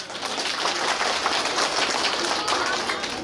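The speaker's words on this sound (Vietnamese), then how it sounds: "Xin mời các cụ cho một tràng vỗ tay." Steady applause from a crowd at a 100th birthday longevity celebration in a Vietnamese ancestral hall, a dense patter of many hands clapping that continues evenly throughout.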